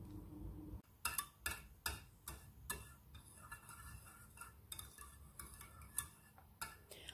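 A spoon stirs pasta salad dressing with salt in a bowl, giving a run of close, sharp clinks and taps in an uneven rhythm, heard alone with no talk.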